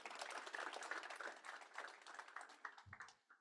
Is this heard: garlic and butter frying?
no